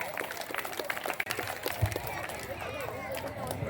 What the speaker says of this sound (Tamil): கைத்தட்டல்கள் மட்டுமின்றி மனதளவிலும் பாராட்டுங்கள்